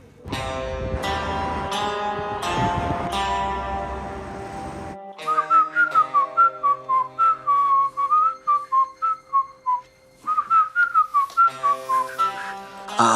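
A person whistles a wavering, repeated tune in short pulsed phrases, close and clear, after a stretch of brighter musical tones.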